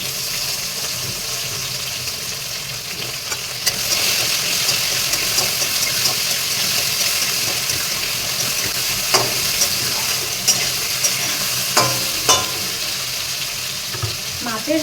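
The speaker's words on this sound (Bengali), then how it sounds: "এবার দিয়ে দেবো এই কেটে রাখা শসাগুলো।" Sliced cucumbers go into a fish curry simmering in a pan, tempered with black cumin and made without other spices, giving a steady sizzle and bubbling with occasional sharp clinks of a utensil against the pan.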